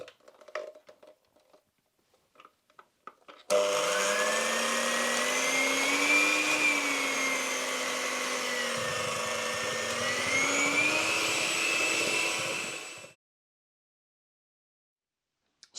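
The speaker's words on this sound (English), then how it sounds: "the mixing or blending is going to take place for 5 minutes" A blender whips a homemade lip balm mixture, a loud steady whirring drone that starts abruptly, shifts pitch slightly as it runs for several seconds, then winds down and stops, with brief clatter before it starts.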